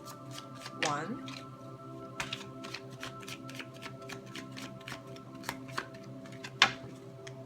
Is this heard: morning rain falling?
no